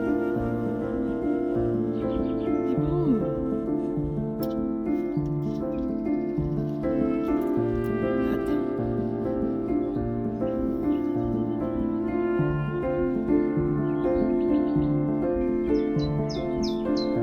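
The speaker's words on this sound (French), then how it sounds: "Oh, on entend les oiseaux qui chantent" Birds chirp and call outdoors at a campsite in Burgundy, short high notes scattered over a steady, continuous background hum.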